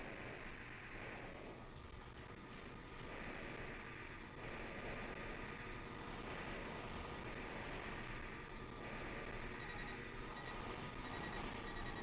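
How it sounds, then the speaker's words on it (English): Enemy aircraft approaching in the video game Armored Core: a steady, loud roar of jet engines with a broad rushing drone that hums on without pause, swelling slightly in waves, with no voices. "Enemy aircraft approaching."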